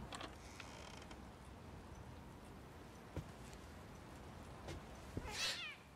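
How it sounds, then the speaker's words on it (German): A cat in the horror video game The Medium gives a short meow near the end, preceded by faint creaks and scattered mechanical ticks against a quiet ambient background. "So eine Katze."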